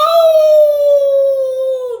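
A hyena gives a single sustained, slightly falling howl, loud and close, lasting about two seconds with no other sound.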